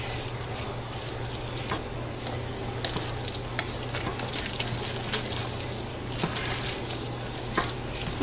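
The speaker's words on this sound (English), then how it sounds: "we're just going to mix this all together" A cheesy wild rice mixture being stirred in a pan, with soft scraping and wet shuffling over a low steady hum, and occasional sharper clicks of the utensil.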